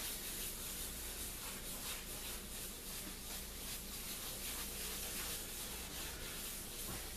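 A glass cooktop scrubbed with a Scotch-Brite pad and cooktop cleaner, a continuous close rasping rub with rhythmic back-and-forth strokes.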